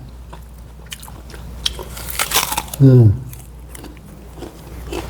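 Crisp bites and chewing on a crunchy Korean apple jujube, eaten up close with a loud crunch near the middle, and a person murmuring appreciatively around it.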